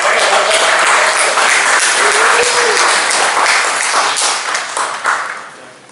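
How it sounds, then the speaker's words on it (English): An audience breaks into loud, dense applause that carries on for several seconds, then thins and fades out at the end. "Let's give him a round of applause."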